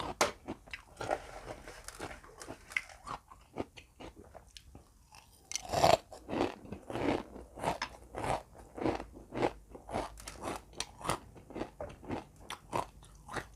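Shrimp steeped in fish sauce with crispy fried shallots being bitten and chewed up close, giving repeated wet crunches and crackles in a steady chewing rhythm, with no talking.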